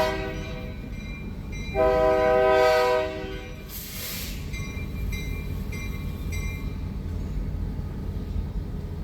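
A logging train on the Oregon coast at Coos Bay rolls past with a steady rumble and clatter, and a loud horn blast sounds briefly early on over the continuous rail noise.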